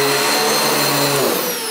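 A Riccar Brilliance R30P upright vacuum cleaner runs with a steady high whine and airy motor roar, close and loud, which begins to wind down near the end.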